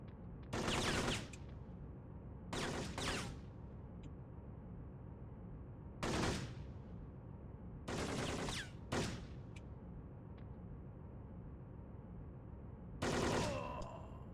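Bursts of rapid automatic gunfire from the Syphon Filter video game crack out in short volleys, six separate loud bursts spaced over a steady low background rumble.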